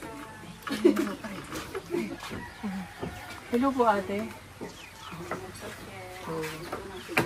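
Several chickens cluck and chatter nearby in short, irregular bursts while a person greets them in Cebuano over the clucking.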